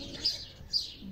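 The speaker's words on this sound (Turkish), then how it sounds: "oğlak sesi, kuş sesi." A small bird in a Turkish village gives two short, high chirps about half a second apart, moderately close, over quiet rural background.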